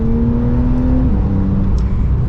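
Porsche 992 911 Carrera in sport and manual mode, its engine droning steadily under acceleration with a smooth rising then settling tone, heard alone from inside the car.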